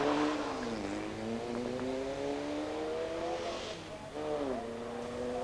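Formula VW race cars on a street circuit at the Dun Laoghaire road races, engines droning and shifting pitch as they rev and change gear, moderately loud and fairly near.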